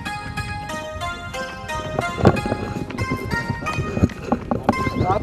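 Horse hooves clip-clop steadily on the ground in a Kumaoni comedy film scene, with music and voices mixed over the rhythmic footfalls.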